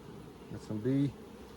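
Honeybees in an opened beehive keep up a faint, steady hum, with a louder buzzing burst near the middle as bees pass close by.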